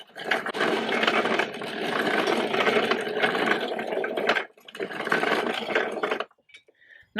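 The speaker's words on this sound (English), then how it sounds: "She put the grinder up on the table and she would grind away at about a pound at a time." A traditional hand grinder turns organic wheat into wheaten meal, making a steady gritty rumble in two long stretches with a brief break, close and fairly loud, and it stops at the end.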